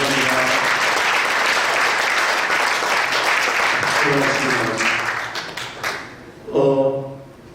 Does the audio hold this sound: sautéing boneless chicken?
no